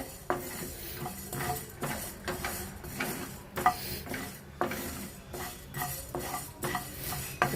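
Coriander seeds being dry-roasted for bisibelebath powder, stirred in a pan with a spoon scraping and clinking against metal in a steady repeating rhythm, close and moderately quiet, with a faint sizzle and no talking.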